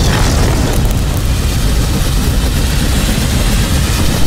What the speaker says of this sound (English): He presses a button on the handle, and a fireball explodes from the high-tech weapon.